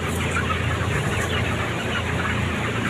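Chickens on a farm clucking in a busy, continuous chorus, several birds close together with fan-like background hum, and no one speaking.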